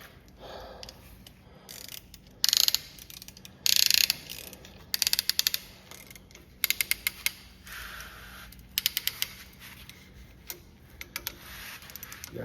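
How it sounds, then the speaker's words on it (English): A very old piston ring compressor is ratcheted around the pistons of a 1948 Farmall C tractor engine. Sharp metallic clicks arrive in short clustered bursts, close and distinct against a quiet shop background. "Get this ring compressor on here and put it down."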